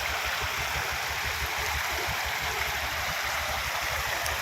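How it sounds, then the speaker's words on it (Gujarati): An overflowing municipal water tank in a hillside neighbourhood pours thousands of litres of water, making a steady, dense rushing splash that carries on unbroken and fairly close. "આ ટાંકી ઓવરફૂલ થઈ ગઈ છે"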